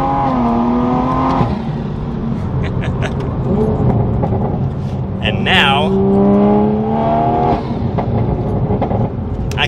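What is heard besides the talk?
sports car engine revving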